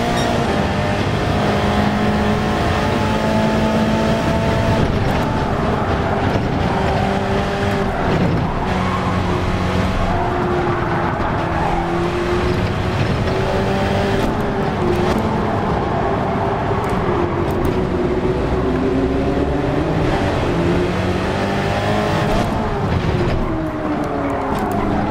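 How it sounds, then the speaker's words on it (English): A turbocharged flat-eight race car engine in the Gran Turismo 7 video game drones loudly and continuously, its pitch climbing and falling through gear changes over a long stretch, with no voices. "let's crank up the volume and listen to that turbo flat 8 sing"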